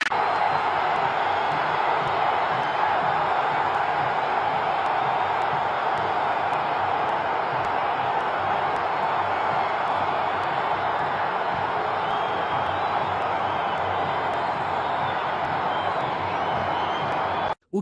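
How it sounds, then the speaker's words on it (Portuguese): Palmeiras supporters in the packed stands of a Brasileirão match against Vasco, a dense, steady roar of crowd chanting filling the whole stadium without pause. "a torcida do Verdão deu um verdadeiro show nas arquibancadas"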